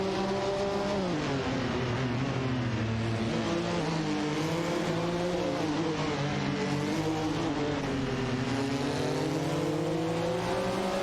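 A racing car in a racing video game roars away at speed, its engine note loud and continuous with rising and falling pitch sweeps as it accelerates and shifts, no voices.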